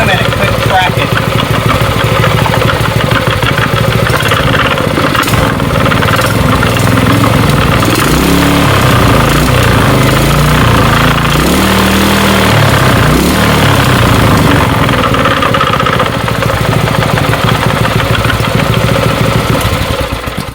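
A Predator 212 small gasoline engine idles loudly and steadily nearby, its even chugging rumble running unbroken with a faint rattling vibration from wood.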